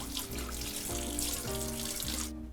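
Cold water pours steadily from a kitchen tap while egg-caked dishes are hand washed, a continuous close splashing rush with clinking dishware under the flow, stopping abruptly near the end.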